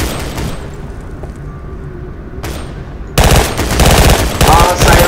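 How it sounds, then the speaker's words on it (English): Rapid gunfire from the video game Double Action, a rooftop shootout, starting with softer muffled shots and breaking into a loud, dense burst of automatic fire in the second half. "I was shooting at Syrena through like a window."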